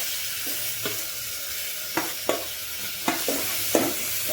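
A spatula stirs chopped carrot, onion, tomato and cabbage with turmeric in a hot pan, giving a handful of sharp scraping strokes over a soft, steady sizzle.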